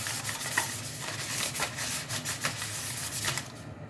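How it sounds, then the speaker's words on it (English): Soft, papery rubbing strokes in an uneven rhythm, close up and fairly quiet, as a butter wrapper is wiped around the inside of a cake tin to grease it. "So this is the paper from the butter, so just use that to grease."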